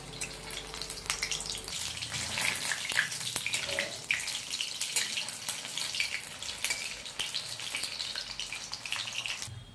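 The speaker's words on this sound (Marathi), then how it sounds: "अशा प्रकारे आपण आता ही सोनेरी कलरवर कांद्याच्या पातीची भजी तळून घेऊया।" Spring onion bhaji deep fry in oil to golden in a village-style kitchen, a loud, dense, crackling bubble that continues throughout, with a few brief clinks near the start.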